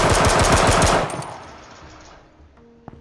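Hand cannon gunfire in the video game H1Z1: a rapid, loud burst of shots lasting about a second, then a fading echo tail and a faint click.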